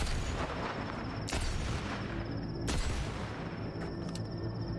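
Mines and turrets in Cyberpunk 2077 unleash a rumbling fusillade, with two sharp blasts punching through a dense, constant roll of gunfire and booms.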